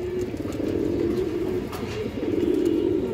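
Silver pigeon cooing up close, a steady low throaty rolling coo that continues throughout against faint background noise.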